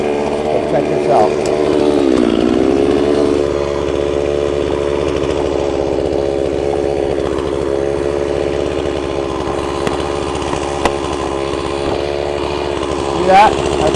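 A chainsaw runs steadily while cutting through a tree trunk during felling, with a loud, continuous buzzing drone that dips briefly early on and then holds near and strong, with faint speech mixed in.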